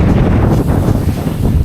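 Strong wind buffets the microphone in a steady, loud rumble throughout, with gusty fluctuations and no voices, while bikepacking between Hamburg and Amsterdam.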